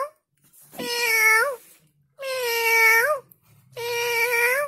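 A man imitates a cat with three long, loud, drawn-out meows in a row, each wavering and bending at the end, separated by short pauses.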